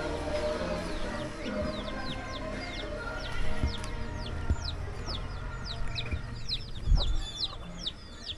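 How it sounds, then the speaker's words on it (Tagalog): Chickens clucking softly amid a busy outdoor background, with scattered chirping birds and occasional louder thumps, moderately distant. "Itong manok na to kakatayin."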